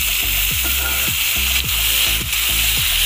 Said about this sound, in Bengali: টমেটোটাকে তেলে ভালোভাবে কষিয়ে নেব